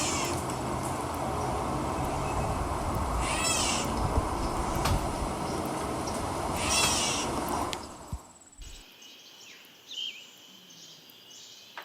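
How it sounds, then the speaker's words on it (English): A bird giving a cat-like meowing call, heard as two short mewing notes against a steady bed of background noise, with a sudden drop to quiet near the end. "let's make a bird that sounds just like a cat"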